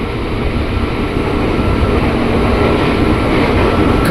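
A KRL Cikarang commuter train runs at high speed, near 95 km/h, on a double-track line. A loud, constant roar of wheels and motion fills the whole stretch with no talk.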